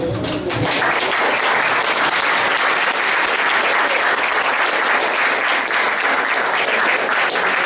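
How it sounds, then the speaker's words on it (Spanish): Students break into loud, steady applause after a talk on democracy and citizen participation, a dense continuous wash of clapping that starts abruptly and holds to the end. "Si no, un aplauso."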